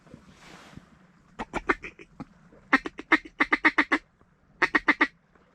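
Teal ducks flying overhead on a duck hunt give series of quick, nasal quacks in rhythmic bursts, fairly close and clear above a quiet outdoor background.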